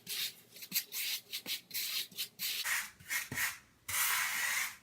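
A grout float or tool rubs grout into the joints of wood-look tile, giving repeated short scraping strokes in an uneven rhythm, close and fairly quiet, ending in a longer continuous scrape.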